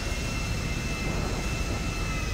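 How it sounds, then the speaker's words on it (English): Steady jet-engine whine and roar of an airplane taxiing toward the gate in a FiveM game, a constant even drone with a high thin tone running throughout. "So we are just going to taxi down to the gate"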